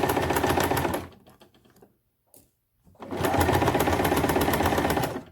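A sewing machine stitches through layers of fabric for a Christmas pillow, running in two loud, steady bursts with a quiet pause between them.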